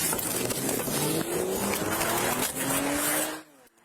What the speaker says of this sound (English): driver pulling an officer down the road a bit with his car while trying to get away